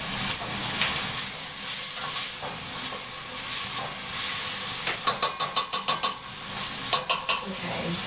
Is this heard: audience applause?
no